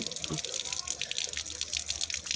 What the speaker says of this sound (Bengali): এই যে টিপ কলটা অন করি, এই টিপ কলে জল আসছে